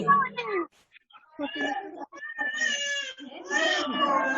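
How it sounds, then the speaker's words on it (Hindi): A child crying and whining in a classroom during a Hindi grammar lesson, wavering high wails rising and falling across several seconds, fairly close and loud. "जो भी जिसके बगल कोई बच्चा रो रहा है उसको हटाओ वहां से।"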